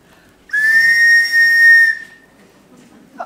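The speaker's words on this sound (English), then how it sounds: "Oh, I forgot to return a whistle, Captain." One loud, steady whistle blast lasts about a second and a half, sustained at a single pitch with a slight dip midway, then stops and leaves near silence.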